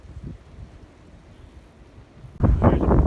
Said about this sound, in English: There's a burst of wind.